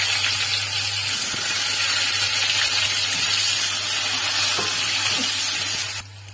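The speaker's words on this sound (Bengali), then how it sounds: "পেঁয়াজটা মোটামুটি একটু লালচে টাইপের ভাবে ভেজে নেব।" Chopped onion frying in a pan for a shrimp and taro stolon curry, a steady close sizzle running alone and unbroken before cutting off abruptly near the end.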